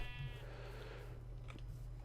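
A single Minecraft sheep bleats near the start, a short, faint, clear cry over a steady low background hum.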